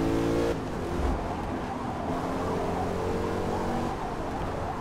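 Corvette C8 engine roaring steadily in Forza Motorsport at Road America, a loud sustained drone with a brief shift near the start and continuous high-revving tone throughout.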